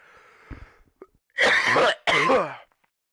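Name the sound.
cough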